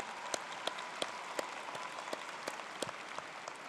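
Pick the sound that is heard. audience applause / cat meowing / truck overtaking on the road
audience applause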